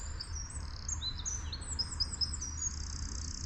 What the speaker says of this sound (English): Just listen to that bird song.